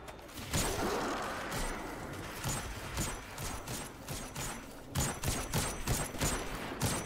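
Gunfire in Destiny 2 during co-op play, bursts of rapid weapon shots and mechanical clatter spread unevenly through the stretch, with a dense run of shots near the end over a moderately quiet game background.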